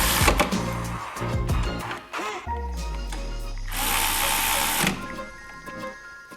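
A power tool whirs in short bursts, then runs steadily and winds down while driving brake caliper bracket bolts home on a Mustang fitted with large brakes, close up in a garage.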